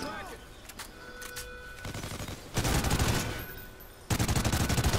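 Automatic gunfire bursts in the video game Call of Duty: Ghosts, sustained rattling volleys loud and close in two long stretches after sparse earlier shots, with a voice talking over the game.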